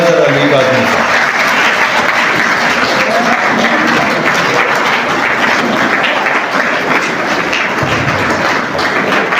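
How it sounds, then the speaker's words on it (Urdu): Audience at a lecture event on mental health in Pakistan breaks into sustained, loud applause, a dense wash of clapping that continues steadily throughout, with some voices mixed in. "آپ کی بھرپور تالیوں میں"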